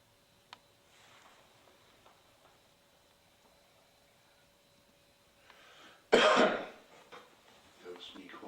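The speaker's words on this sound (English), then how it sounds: "That was me coughing." A sharp, loud cough bursts out near the microphone after several seconds of quiet room tone, followed by a few softer rustles.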